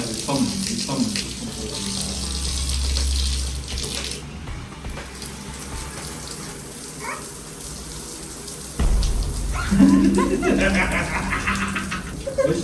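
Tap water runs and splashes for a small child's bath at home, a continuous rushing flow with a louder surge partway through, while people talk over it.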